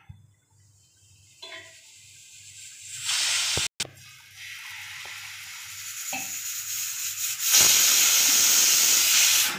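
Rice batter hits ghee on a hot pan, starting quiet, then breaking into a loud steamy sizzle that grows and holds steady, with a brief cutout partway through.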